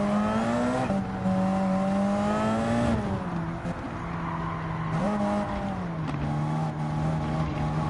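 LMP1-style Gr.1 prototype race cars in Gran Turismo 7 at Grand Valley, including a McLaren Vision GT, produce a loud, sustained, high-revving engine whine that dips and climbs with gear changes and throttle lifts, continuous throughout without talk.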